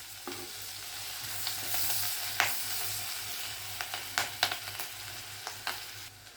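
Chopped ginger and green chilli sizzle steadily in hot oil in a pan for Indian-style masala macaroni, with occasional sharp scrapes and taps of a spoon as it is stirred, close and fairly quiet.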